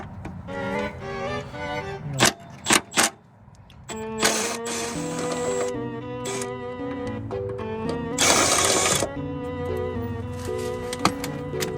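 A 10 mm swivel socket on a ratchet or power tool backs out bolts on a Dodge Mopar rear cradle, giving close bursts of whirring and ratcheting with sharp metallic clicks and clanks, no talking.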